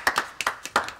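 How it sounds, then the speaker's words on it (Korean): A small group of people clapping hands indoors in a Korean TV drama scene, a loose series of distinct, uneven claps close by, some overlapping, over about a second with no speech. "자 박수. 자 박수."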